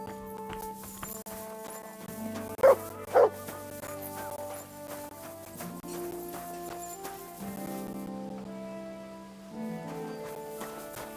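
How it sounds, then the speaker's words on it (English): A dog in the video game Kingdom Come: Deliverance 2 gives two short sharp barks over steady orchestral game music, with some clip-clopping hooves beneath. "You silly doggy."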